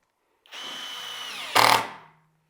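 A Kress KUB61.91 20V brushless impact driver spins a screw into wood with a steady whine, bursts into a short loud hammering rattle, then cuts off on its own and goes quiet.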